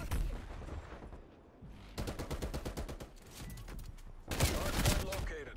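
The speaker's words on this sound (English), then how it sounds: "Shotgun one more time." Video game gunfire, including a shotgun, rings out in dense rapid bursts with a loud volley near the end, close and continuous, and a voice speaks faintly underneath.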